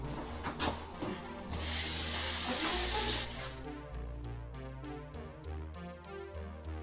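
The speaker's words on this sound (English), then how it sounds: "So let's get it washed." Running tap water splashes over a peeled bottle gourd (lauki) in a kitchen sink, a close, steady wash with a surge of heavier flow midway, scattered ticks and knocks, and a faint musical tone underneath.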